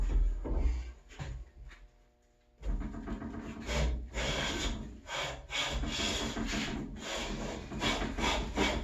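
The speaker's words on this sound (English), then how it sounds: "You can also tell because the shaving's kind of spitting straight up in the air." A hand plane shaves wood while jointing a board, giving repeated rasping strokes in steady rhythm, close and fairly loud, with a brief quiet pause early on.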